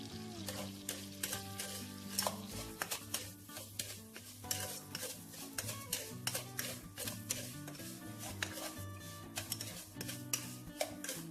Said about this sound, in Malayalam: ഷുഗർ നമ്മൾ കുറേശ്ശെ ആയിട്ട് ആഡ് ചെയ്തിട്ട് നന്നായി മിക്സ് ചെയ്യണം വേണ്ടത്.